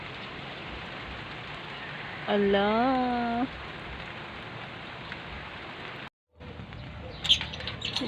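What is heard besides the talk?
rain falling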